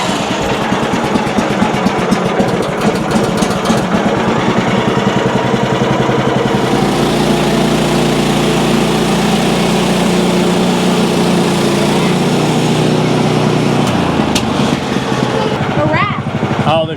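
A small petrol engine, long unused and run with the choke on, roars steadily and close for the whole stretch with a rapid, throbbing pulse, and its pitch shifts partway through.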